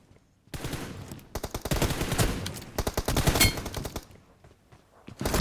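Bursts of rapid gunfire from a video game, several volleys of loud cracking shots separated by short pauses, with no talking.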